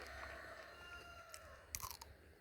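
A crisp, crunchy bite into a raw tindora (ivy gourd) picked fresh from a garden vine, a short burst of crunching and chewing close up near the end, with no talking over it.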